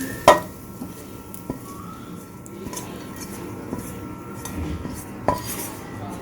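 A metal pan is set down and chicken is moved onto a plate with a utensil: a sharp clank near the start, then scattered scrapes and clinks of metal on cookware, fairly close, with no talking.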